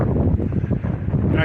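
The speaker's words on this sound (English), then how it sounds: "Back in the desert, the wind's back." Wind buffets the microphone in open desert, a loud, continuous low roar that fluctuates in gusts, with a voice speaking over it.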